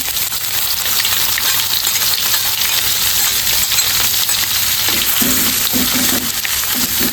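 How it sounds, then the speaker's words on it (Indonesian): Small anchovies (teri) frying in hot oil in a pan, a loud, continuous crackling sizzle with dense popping that fills the whole stretch, close up, with no talking. "kita goreng ya teman-teman terinya"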